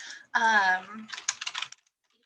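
Typing on a computer keyboard: a short voiced sound, then a quick burst of several close keystrokes before silence.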